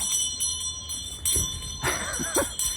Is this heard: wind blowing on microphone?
no